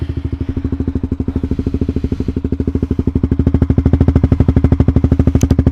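A motorcycle with an RX8 trioval aftermarket exhaust silencer runs with deep, evenly spaced thumping exhaust pulses that gradually quicken and swell. It is close and steady, with no voices.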